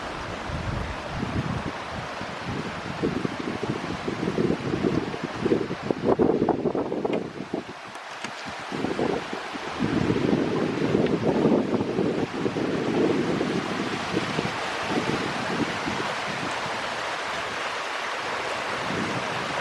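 River water flowing steadily just outside a studio, a continuous broadband rush with surging swells that stays loud and constant throughout, with no voices.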